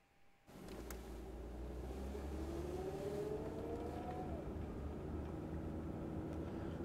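A car engine in the video game Psycho-Pass: Mandatory Happiness starts up and hums steadily, revving slightly higher midway, heard alone at moderate volume with no talking.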